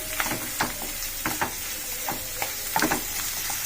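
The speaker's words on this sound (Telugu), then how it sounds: "ఇప్పుడు పసుపు ఆనియను ఉల్లిగడ్డ కొంచెం ఫ్రై అయిందండి" Onion frying with turmeric in a pan for a fenugreek-leaf tomato curry, a steady low sizzle broken by several scraping stirs of the spatula, close and alone with no voices.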